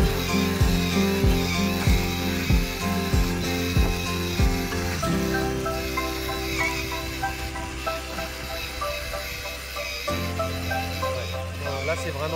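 A bioculteur broadfork works garden soil, first with a run of rhythmic low thumps and scraping strokes, then a steadier grinding, crunching drone; mechanical, close and fairly loud throughout.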